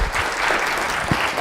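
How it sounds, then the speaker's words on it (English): Audience applauding after a keynote speech at a Brain Injury Association of Missouri event, a dense continuous wash of clapping from a crowd, loud and close throughout. "Let's give him another big round of applause."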